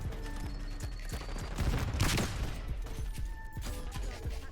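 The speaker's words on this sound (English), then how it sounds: "I'm shooting his body with a whole clip." An Ames 85 rifle fires in Black Ops 6, a rapid sustained burst of close gunshots in a steady rhythm that empties a whole magazine, with a brief louder crash in the middle.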